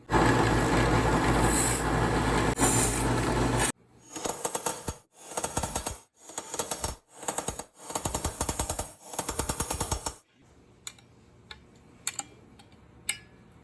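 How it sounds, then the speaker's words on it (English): A loud continuous grinding runs for a few seconds, then a series of rapid, rattling drill bursts in short repeated pulses as spot welds are drilled out of sheet metal, ending with sparse clicks. "Now I'm going to drill out those 2 spot welds and get this piece off of here."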